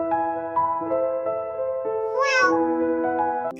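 A cat meows loudly and close by, one long drawn-out call rising in the middle, with a steady tonal hum underneath.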